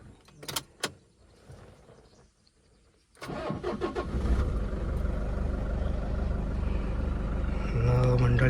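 A Toyota Innova's engine cranks and catches after a battery swap, then runs at a steady, loud idle nearby, with a few brief thuds and murmured voices before it fires.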